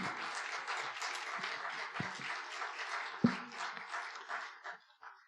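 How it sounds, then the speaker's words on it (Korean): Applause from a church congregation during a Sunday service, welcoming a pastor to the pulpit: steady broadband clapping throughout with a few louder isolated claps, fading slightly near the end. "목사님에게는 환영의 의미로서 박수로 맞이해 주시면 참 감사하겠습니다"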